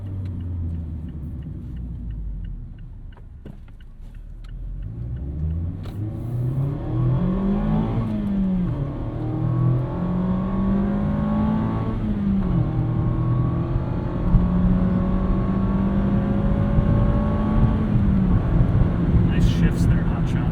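A 2026 Mazda MX-5 Miata RF with a six-speed manual accelerating through the gears, the engine note climbing, dropping at each shift and climbing again, loud and close inside the cabin with steady road rumble beneath.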